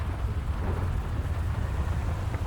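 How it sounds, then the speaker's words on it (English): Thunder in GTA 5 with the NaturalVision mod: a low, continuous rumble rolls beneath a steady rain hiss, moderately loud and with no voices. "This is thunder."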